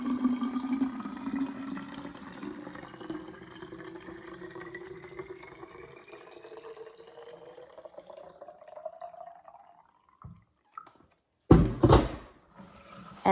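Water runs through a home water filter system, a steady stream with a rising pitch as the vessel fills, followed by a pause and a short loud gush near the end.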